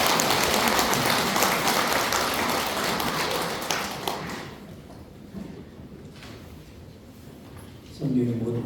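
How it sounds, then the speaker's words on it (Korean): A crowd at a Catholic retreat claps for a priest's lecture, dense applause for about four seconds, then thinning to scattered claps before a voice begins. "정태현 칼리스토 신부님의 멋진 강의를 위한 큰 박수 부탁드립니다"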